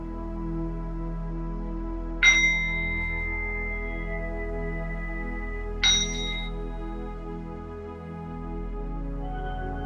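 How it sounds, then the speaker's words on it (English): A meditation bell is struck twice, each strike ringing clearly and fading slowly, with a softer third strike at the end over a quiet hum. "So becoming aware of the ringing of the bell"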